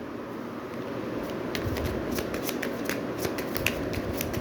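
Tarot cards being shuffled by hand in a steady, continuous riffle of soft papery flicks and slaps, close and moderately loud, with no speech.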